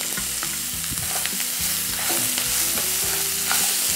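Cucumber pieces fry in a crisp tempering of spices, with a loud continuous sizzle close by. A spoon scrapes and stirs in quick, repeated strokes against the pan, and no one speaks.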